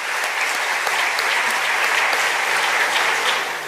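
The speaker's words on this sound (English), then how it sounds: "Let us give them a round of applause" Steady, sustained applause from a large audience at a climate summit in the Kenyatta International Conference Center, continuous clapping filling the room without pauses or voices.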